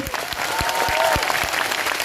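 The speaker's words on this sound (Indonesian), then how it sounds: "Tepuk tangan untuk BMI." A crowd at a large Islamic religious gathering (pengajian) bursts into dense, sustained applause. The clapping is loud and close, with a few faint voices rising over it.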